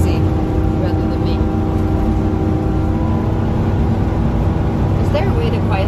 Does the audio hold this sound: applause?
no